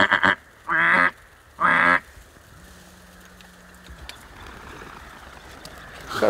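Two loud, close bursts of hen mallard quacking ring out over a shallow ice hole during a duck hunt, then fade into quiet outdoor ambience.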